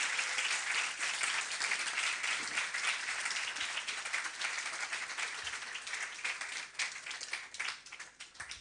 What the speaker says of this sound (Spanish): Otro aplauso para nuestra actriz Patricia Rivadeneira